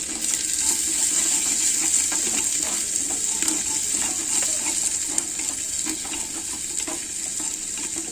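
Fenugreek leaves frying in a clay pot over a wood fire outdoors, a constant bright sizzle with scattered crackles and stirring clatter, close and steady, with no talk.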